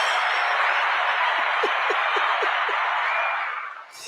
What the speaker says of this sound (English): Let's give everybody a round of applause, man.